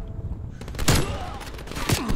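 Sniper gunfire in the video game Black Ops Cold War, two sharp, loud reports about a second apart over game noise, with a voice shouting.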